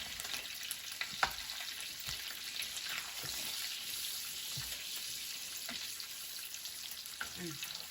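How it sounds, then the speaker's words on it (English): Fresh ravioli sizzling in a pan of butter with sage, a steady soft crackle and hiss close by with faint clinks of stirring, no one talking. "the sage will get infused into the ravioli, and we'll fry a little bit"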